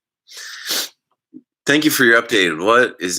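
A short, breathy sneeze sounds close and alone after a brief silence, followed by someone speaking clearly.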